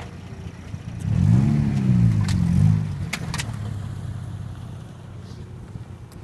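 An old-school Toyota Supra weighing about 3,000 pounds rolls slowly over lens caps: a low engine rumble swells and holds for a couple of seconds, with a few sharp crackles, then settles into a steadier hum with wind noise.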